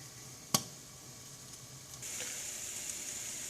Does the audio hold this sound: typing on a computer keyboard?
no